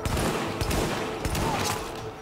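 A rapid volley of gunfire in Tom Clancy's The Division, set in the Lincoln Tunnel, a close burst of crackling shots that fades slightly toward the end.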